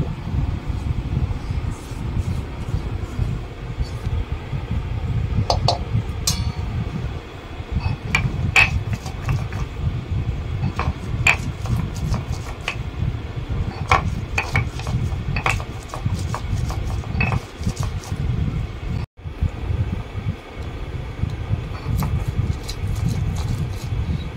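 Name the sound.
grinding ginger, fried onion, garlic and green chili into paste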